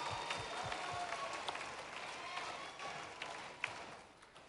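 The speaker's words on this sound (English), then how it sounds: "I think they deserve another round of applause." An audience claps and applauds at the Golden Shears junior shearing final, a faint, far, steady wash of many hands clapping that continues throughout.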